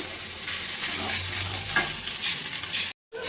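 Chopped banana stem is stir-fried with spices in a pan, giving a steady close sizzle with stirring scrapes and a brief cut to silence near the end.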